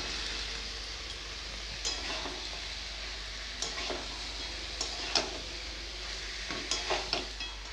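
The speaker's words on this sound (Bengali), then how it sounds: "এবারে দেব মাছের মুড়ো আলু ভাজা।" Fish head and fried potatoes sizzling in a pan for a muri ghonto curry, with a steady close hiss of frying broken by scattered scraping taps of stirring; no one speaks.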